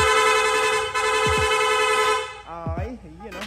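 Rapid horn on a Honda Click V3 scooter, a loud steady horn tone sounding close up, followed by someone talking near the end.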